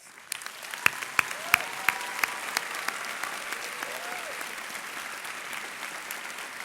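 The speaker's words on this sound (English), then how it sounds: "giving a round of applause to all the families and those who supported our students" Audience applause at a graduation ceremony honoring families and supporters: a few sharp, separate claps at first, quickly thickening into a soft, steady patter of many hands heard from some distance.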